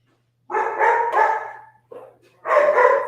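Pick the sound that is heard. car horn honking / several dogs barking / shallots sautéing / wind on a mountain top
several dogs barking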